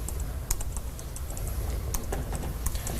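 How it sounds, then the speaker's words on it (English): Fingers type on a computer keyboard in a steady, irregular patter of light clicks, close and fairly quiet, with no talking. "You're doing a great job typing"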